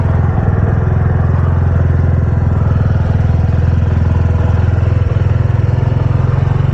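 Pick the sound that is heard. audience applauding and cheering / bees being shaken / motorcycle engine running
motorcycle engine running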